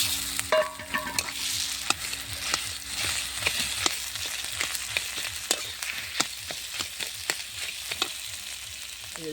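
Potatoes tipped into a pan of oil with chilies fried until red, then crackling and sizzling steadily with a scatter of sharp clicks and spatula scrapes, close and fairly loud throughout.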